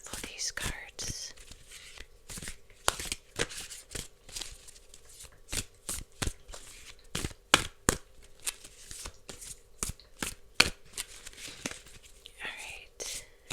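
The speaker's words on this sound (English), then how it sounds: "Gonna shuffle these cards." Playing cards, including a tarot deck, are shuffled close to the microphone in a series of quick, crisp riffles and taps, with soft whispering in between.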